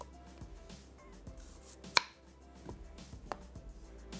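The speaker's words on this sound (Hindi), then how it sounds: "इसको हमने स्लाइसेस कर लेना है।" A knife slices onions on a cutting board, giving a few sparse, close chops with one sharp loud knock near the middle over a quiet kitchen background.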